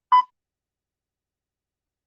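A telephone call tone sounds as a single short electronic beep at the start, followed by complete silence.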